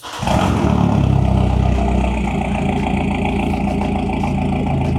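A Rover car engine turns over and catches on its first start, then settles into a loud, steady idle with a deep, even rumble close by; no one speaks.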